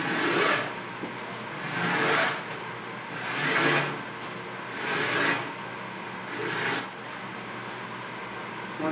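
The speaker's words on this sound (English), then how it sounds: "So, I have this rasp. I'm going to start it at" A hand rasp is pushed across the edge of a wooden cabinet shelf in five or six slow, rhythmic strokes, each a rough scraping swell with short pauses between, heard close up.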